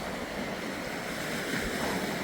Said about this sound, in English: Whoa, big waves.